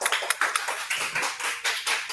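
A roomful of people claps together at a Thai TCAS exam prep session, a dense, continuous patter of hand claps with slight swells, no talk over it.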